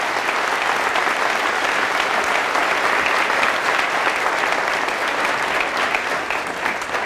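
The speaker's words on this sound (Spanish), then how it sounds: "Fuertes aplausos a Jesús nuestro Señor" A church congregation applauds during a Catholic priest's sermon, a steady, loud wash of many hands clapping continuously for several seconds with no break.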